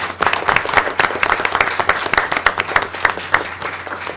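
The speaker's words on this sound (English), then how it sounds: "we'd like to give you all a big round of applause" Attendees at a Board of Education meeting give a big round of applause: many hands clapping in a lively, uneven patter, with individual claps standing out, continuing steadily without speech.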